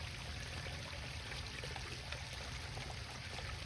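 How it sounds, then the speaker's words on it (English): Running water of a creek in Sycamore Creek Park, Pickerington, Ohio, a steady broadband wash that stays even throughout, with no talk. "Y'all hear that running water?"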